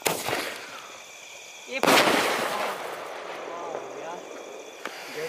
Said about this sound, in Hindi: सच में बहुत ही शानदार ये स्काई शॉट भी चला